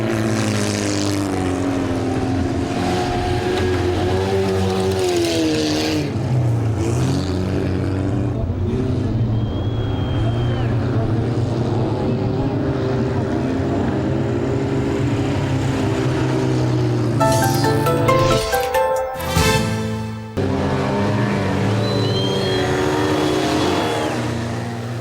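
Race cars in a no-rules car race in Yakutsk drone and rev continuously, engines rising and falling in pitch as they pass, loud throughout with a brief sharp burst near the end.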